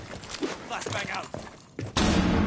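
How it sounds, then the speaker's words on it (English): A flashbang grenade in a tactical shooter video game: a few soft thumps and shuffling sounds, then a sudden loud burst of hissing noise that stays at full strength to the end. "Flashbang out!"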